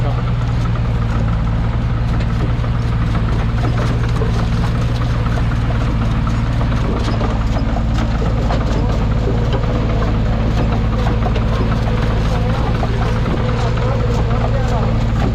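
A Kubota M9540 tractor pulls a sugarcane planter across dry field soil, its diesel engine giving a loud, steady low drone with no break throughout, and a voice faintly audible over it.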